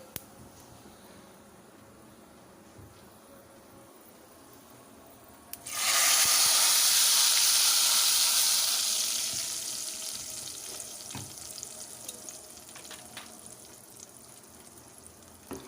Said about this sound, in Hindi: अब ये तड़का हम दाल में डाल देंगे।